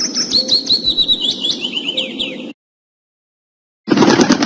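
A bird chirps in rapid, bright tweets and trills, close and steady for a couple of seconds, then silence, then a burst of dense noise at the end.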